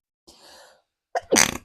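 A single sneeze close to the listener, opening with a drawn-in breath before a sudden, forceful burst.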